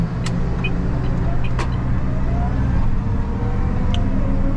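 Valtra T235 tractor engine while driving, a steady low diesel rumble running throughout at close range, with occasional light clicks and rattles from the cab.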